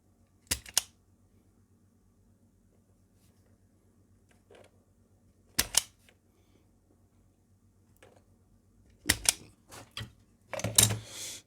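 Sharp isolated snips of cutters through a 3-core mains cable for a fiber optic Christmas tree, several crisp clicks spaced apart in quiet, with a cluster of cuts toward the end.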